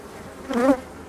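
A short honeybee buzz swells up briefly and fades, a drone passing close against a quiet outdoor background at a beehive in the early morning.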